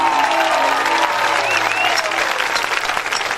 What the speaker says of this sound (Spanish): Fuerte el aplauso para Franco Favini.